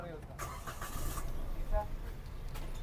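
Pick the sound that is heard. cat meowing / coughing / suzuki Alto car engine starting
suzuki Alto car engine starting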